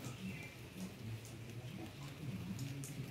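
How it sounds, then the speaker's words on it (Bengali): Rain falling on a rooftop garden among hibiscus and lemon plants, a soft continuous patter with scattered drops, faint and steady throughout. "বৃষ্টি হচ্ছে, একদম বৃষ্টি।"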